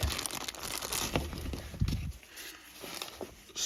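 Plastic packet holding a replacement fuel line for a Stihl 4-Mix engine being opened, with crinkling, rustling handling noise and a couple of sharper tearing bursts, close up with no talk.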